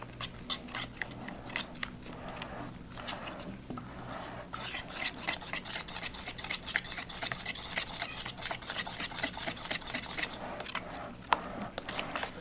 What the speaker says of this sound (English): And then we're going to whisk that in.